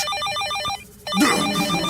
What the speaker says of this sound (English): Phone loud, but Hulk louder! Hulk loudest